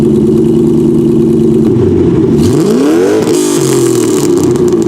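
A modified Ford Mustang with an aftermarket exhaust revs loudly up close, a deep rumbling idle rising into a sweeping rev and settling back down.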